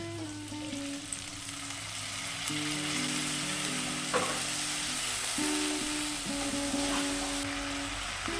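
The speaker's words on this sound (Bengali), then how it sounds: "পেঁয়াজগুলো লাল করে ভেজে নিয়েছি এখন আমাদের তৈরি করে রাখা মশলাটি দিয়ে দেব" Onions and spice paste fry in a pan for a fish roe curry, giving a steady, close sizzle that thickens slightly midway. Sustained tonal sounds run faintly beneath it.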